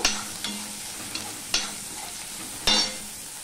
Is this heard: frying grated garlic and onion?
yes